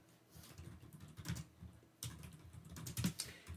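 Rapid keystrokes on a computer keyboard while typing Python code in the Spyder editor on Windows, fairly close and moderately quiet, with irregular bursts of clicks and a brief pause midway.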